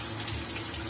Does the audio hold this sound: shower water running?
yes